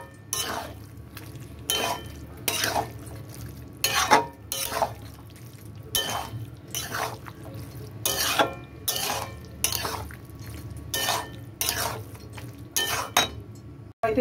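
A utensil scrapes and clinks against a pan as meat is stirred with spices and dal for egg tadka, in a steady repeating rhythm of metallic strokes over a faint sizzle.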